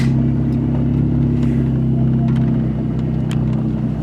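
A Buick LeSabre with 187,000 miles rumbles along at a steady low drone, its engine and road noise loud and close throughout with no talking over it.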